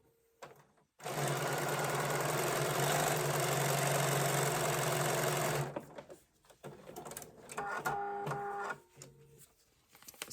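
Sewing machine running a steady burst of stitching for several seconds on a paper-pieced snowflake quilt block, a loud continuous motor whir that stops abruptly, followed by quieter handling noises and a short hum.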